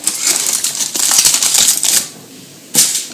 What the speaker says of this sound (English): you cover the top of the cup with tin foil